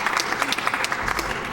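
Audience applause at a Metroid Fusion speedrun race during SGDQ 2014, a steady wash of clapping from the crowd, moderately loud and continuous with no talk over it.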